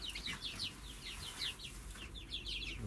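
About forty-four young chicks in a brooder under an infrared lamp give rapid, repeated high peeps that overlap in quick chirping bursts, faint over a steady low background hum.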